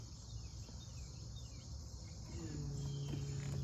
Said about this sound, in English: I hear the fuel pump running